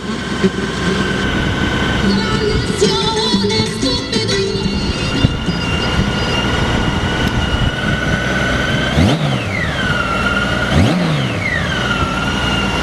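A 2003 Honda Goldwing GL1800 with a Voyager trike kit runs with a loud, steady engine drone close by. Warbling tones sweep up and down over it later on.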